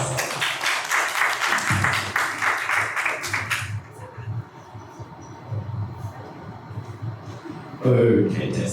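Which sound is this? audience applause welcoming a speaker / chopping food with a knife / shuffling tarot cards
audience applause welcoming a speaker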